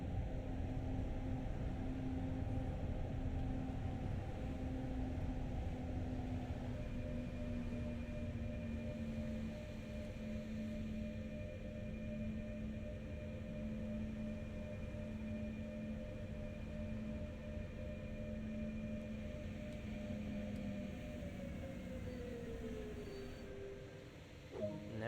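A locomotive hauling wagons in Train Sim World on the Wuppertal–Hagen route rolls to a halt, a steady low rumble with sustained tonal whines that sink in pitch as it slows and settles near the end.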